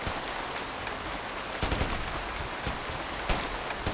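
Dense gunfire in the video game Ghost Recon, a continuous crackling rattle of distant shots with a few sharper, louder reports standing out, steady and busy throughout with no talk.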